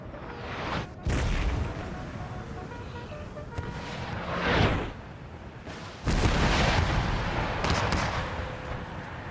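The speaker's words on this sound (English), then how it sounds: "whilst my howitzers bombarded them" Howitzer artillery bombards troops in Total War: Empire, several deep booming shots at irregular intervals, loud and near, each trailing into a rumbling decay over steady battlefield noise.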